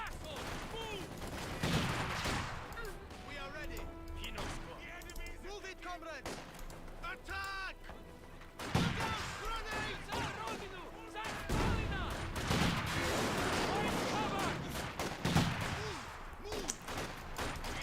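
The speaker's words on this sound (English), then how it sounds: "Machine gun fire! We have an LMG." Machine gun fire and other gunfire crackle through a Company of Heroes 2 battle, with dense bursts and scattered shots over a busy game soundscape, heaviest in the second half, while voices speak throughout.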